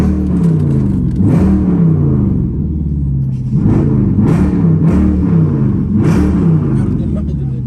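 Dodge Durango SRT driving on Ocean Drive in Miami's South Beach, with a steady low engine and road rumble that rises in repeated surges while people talk inside the vehicle.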